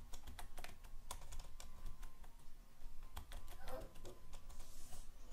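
Computer keyboard clattering as Urdu text is typed in CorelDraw, a run of quick, irregular close key clicks with brief pauses and light room noise underneath.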